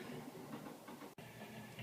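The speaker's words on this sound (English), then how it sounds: "There goes the train." A train passes outside a student room window in a steady, faint, broadband rumble and hiss from a distance, with a brief break partway through and no voices.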